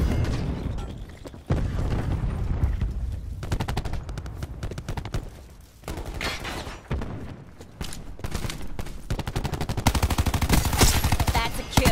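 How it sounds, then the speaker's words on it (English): Cluster grenade explosions in a Call of Duty team deathmatch, played with an MX9, come as a dense barrage of close booms and pops mixed with rapid gunfire, loud and continuous with brief lulls. "Throwing cluster grenade."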